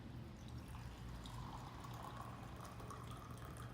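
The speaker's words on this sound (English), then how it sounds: "simply pour your coffee" Freshly brewed French press coffee from a Manual Coffeemaker Nº3 pours steadily into a cup, a soft continuous liquid stream heard close and quiet with no talk.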